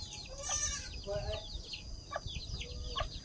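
Spotted chickens on a farm cluck and squawk in short bursts, several calls spread over a few seconds, fairly close but soft, with faint background noise.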